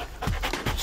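A purebred German shepherd police tracking dog pants close by in quick, steady rhythmic breaths, with no talking.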